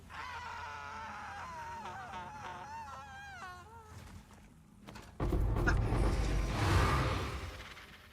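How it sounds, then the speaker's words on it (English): A female character in Path of Exile 2 lets out a loud, exaggerated death scream, a wavering high cry over game sounds, followed by a harsh burst of noise. "This is the one that screams ridiculously when she dies."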